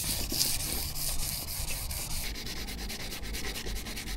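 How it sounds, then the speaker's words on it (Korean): Sandpaper rubbed by hand over a Sea Ray Sundancer boat surface outdoors, a close, continuous scratchy hiss with quick back-and-forth strokes. "페이퍼로 샌딩을 조금 더 해주는 게 나을 것 같습니다"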